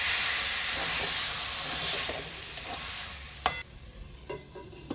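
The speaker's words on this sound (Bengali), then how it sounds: "এরপর আলতো হাতে একটু নেড়ে দেবো।" Marinated paneer sizzles and steams in a pan with whole spices as it is gently stirred, a dense frying hiss that fades toward the end, broken by a few scraping stirs.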